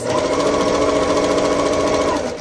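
Sewing machine stitching the seams of quilt star blocks, a steady, continuous close-up whir that runs evenly throughout with no pauses.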